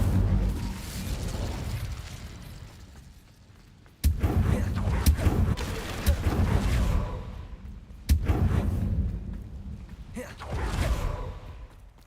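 Incendio fire spells blast in the Hogwarts Legacy video game, a dark magic playthrough: three sudden booming bursts about four seconds apart, each followed by a rumbling, crackling tail that fades before the next.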